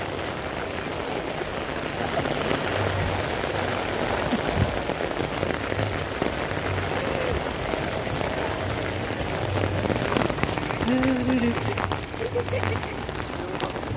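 Steady rain falls at Animal Kingdom theme park in the evening, a continuous hiss of drops on surfaces throughout, with faint nearby voices and a brief tone underneath.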